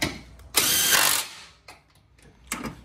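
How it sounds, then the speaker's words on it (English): A ratchet wrench tightens 14mm bolts on the radiator support of a Fiat 500 Abarth during a front-mount intercooler install: a long close clicking burst, then a couple of shorter ratcheting runs, no talk. "So I'm going to start with 14mm, tighten them down."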